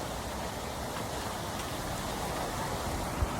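Steady rain falling on a flooded evening street in Chiang Mai, Thailand, a dense even hiss with pattering drops, continuous and fairly close, with one brief thump near the end and no talking.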